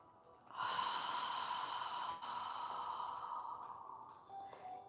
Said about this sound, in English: exhale with your mouth open wide. As you exhale, imagine you're fogging a mirror with your breath